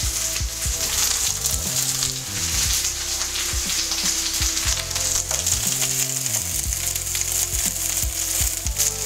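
Onions and carrots frying in a pan for a beef coconut curry, a steady close sizzle broken by repeated scraping and stirring knocks of a utensil, with no voices.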